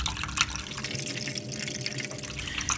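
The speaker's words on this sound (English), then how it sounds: "this is probably more like 6 liters or 7 liters of water coming out" Water gushing out of a Bosch Siemens washing machine with a failed drain pump, several liters pouring in a steady, close, continuous splashing rush with no talk over it.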